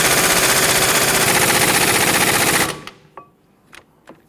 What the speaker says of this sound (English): Now we can go ahead and get our impact gun on here.